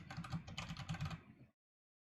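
Quick, close keystrokes rattle on a computer keyboard as a passphrase is typed, a dense burst of clicks for about a second and a half before cutting off to silence.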